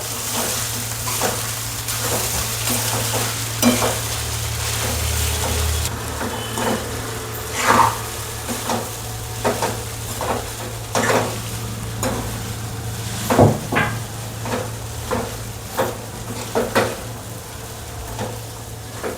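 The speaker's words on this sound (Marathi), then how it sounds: "चांगलं मिक्स करून घ्यायचं" Kanda poha being stirred in a pan, with repeated scraping and knocking strokes of a spatula over a low, steady sizzle and a constant hum, the strokes irregular and fairly close.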